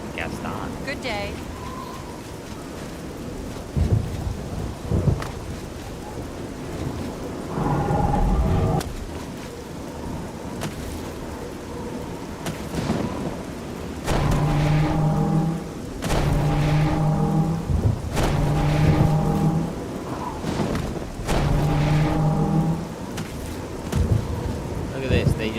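Steady rain and rolling thunder in a rainy town in Oblivion, with game characters talking over the weather and bursts of game music coming and going.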